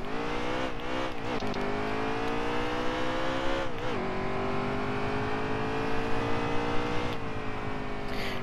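Simulated NASCAR stock car in NASCAR Heat 3 on the Bristol track, a loud, sustained engine drone with a few quick shifts and pitch dips, steady and close throughout.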